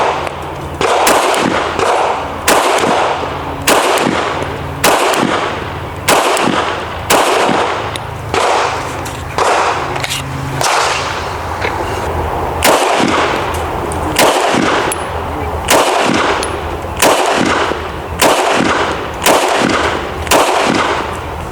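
Repeated pistol shots from a Canik Mete MC9 and a Sig P365 firing regular FMJ ammunition, loud sharp cracks in a steady rhythm, roughly one or two per second, across the whole stretch with no talking.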